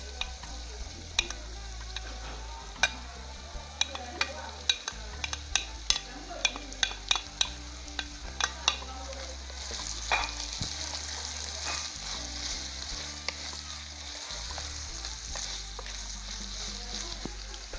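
Vegetables for spring rolls stir-fry in a hot pan, a steady sizzle running throughout with frequent sharp clicks and scrapes of stirring, close and fairly loud, with no talking.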